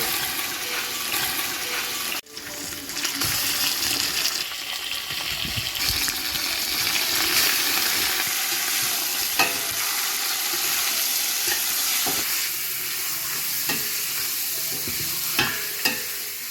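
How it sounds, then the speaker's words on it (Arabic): Onions and meat frying in a pot of oil for Bukhari rice, stirred together: a dense, loud, continuous sizzle with rustling and scraping of the spoon through the pot, steady throughout with no talk. "وهنقلب كله مع بعضه لغايه ما البصل يحمر معانا بالشكل ده"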